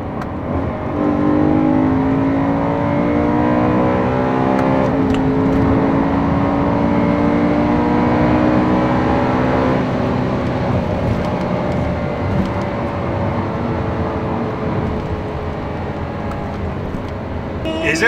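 A BMW E92 M3 with its naturally aspirated, individual-throttle V8 pulls hard under acceleration, a loud, steadily climbing engine note heard from inside the car that runs continuously through the whole stretch.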